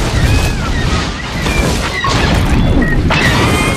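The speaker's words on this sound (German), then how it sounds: "Der nächste Effekt zeigt BB-8, wie er von einem Angriff flüchtet mit schönen vielen Explosionen." Dense, loud rumbling explosions and crashes pile up continuously, app-generated Star Wars-style effects, with faint whooshing and whistling sweeping over the booming wash.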